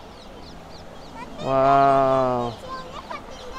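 Waterfowl on a lake in a park in India on a winter afternoon, where both ducks and geese are present. One loud, nasal honking call lasts about a second amid faint distant calls, and a person briefly exclaims.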